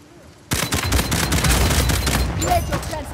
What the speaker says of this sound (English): gotta get the big gun out.